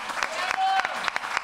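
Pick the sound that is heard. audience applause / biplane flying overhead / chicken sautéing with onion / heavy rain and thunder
audience applause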